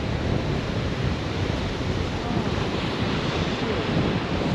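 Ocean surf rolls onto a beach near a jetty, a steady roar of broadband wash with wind buffeting the microphone, continuous and fairly loud with no voices.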